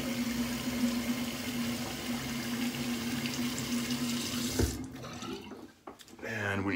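Cold water runs from a tap into a sink in a steady, moderately close stream for about four and a half seconds, then cuts off, followed by brief clattering handling noises and a short, higher-pitched sound.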